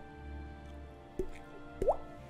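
Water drips in an underground tomb: two distinct drops fall about half a second apart over a faint, hollow background hum, the second with a short rising plink.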